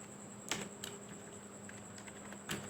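A few sparse, quiet keystrokes on a computer keyboard while code is typed, with single clicks spaced apart over a faint steady hum.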